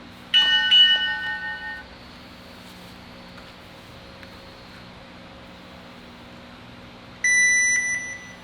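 Electronic training timer in an arm-wrestling session gives two separate bursts of sharp, bright beeps, one near the start and another near the end, with quiet room hum in between.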